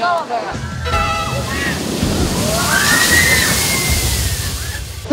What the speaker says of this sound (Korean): 여기서 물 떨어져요.